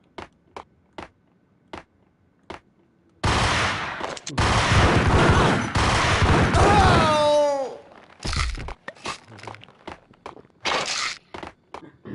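Gunshots in the PS2 video game Max Payne: a couple of loud, dense bursts of rapid gunfire in the middle, with scattered single sharp thuds and footstep-like knocks before and after, no talk.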